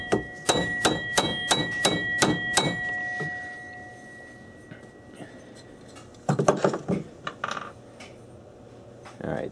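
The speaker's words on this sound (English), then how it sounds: "This pulley here is pretty loose. Alright, so we want to punch it that way. Let me take a mallet here." A mallet knocks a loose pulley along a shaft during a South Bend oiler modification. It lands eight sharp, ringing metallic taps in quick, even succession, then after a lull comes a second flurry of rapid strikes.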